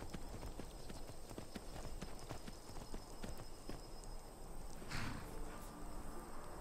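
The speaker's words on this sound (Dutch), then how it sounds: "Laat gewoon maar met het paard naar binnen lopen." Horse hooves clip-clop at a steady walking pace in the Skyrim video game on PC. The hoofbeats are close and continuous over a constant background wash, with a short hissing burst near the end.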